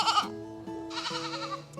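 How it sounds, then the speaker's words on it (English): A horned male goat on an off-grid homestead bleats loudly and close by, one short call followed by a longer, wavering bleat, with no talk over it. "He's got horns, so I'm guessing it's a man goat."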